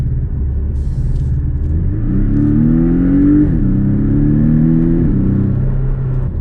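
A Porsche 718 Cayman accelerates hard, its engine and muffler exhaust rising in a loud, close, continuous drone that climbs in pitch, dips briefly at a gear change, then climbs again.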